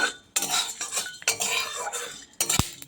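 Black peppercorns dry roasting in a pan with lentils give off bursts of dry rattling and metallic clinking from stirring, separated by brief quiet gaps.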